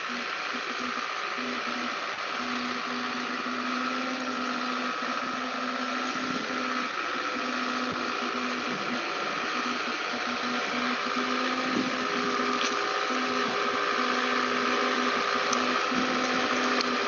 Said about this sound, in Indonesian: Moroka sedang membawa bibit sekitar 280 bibit yang berumur 9 bulan.